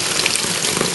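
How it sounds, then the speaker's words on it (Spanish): Water falls from a homemade waterfall into a small lake, a continuous close splashing rush that stays steady throughout the short moment, with no voices. "el agua irá cayendo más o menos así"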